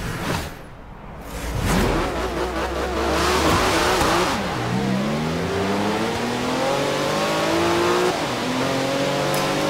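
A Porsche 911 GT2 RS races in Forza Horizon 3, its engine revving loud and close, rising and falling in pitch through repeated gear changes with steady road rush and a brief whoosh, without any talk.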